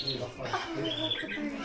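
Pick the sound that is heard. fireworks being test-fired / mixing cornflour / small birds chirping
small birds chirping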